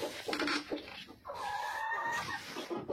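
Guinea fowl, both males and females kept at a home poultry yard, call in harsh, repeated cackling bursts that are close and fairly loud, with no talking.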